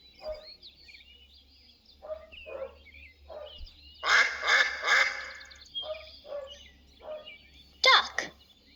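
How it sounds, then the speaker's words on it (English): Ducks quack in a string of short, fairly close bursts, with a louder clustered run of calls in the middle and thin birdsong chirping faintly in the background. "Duck."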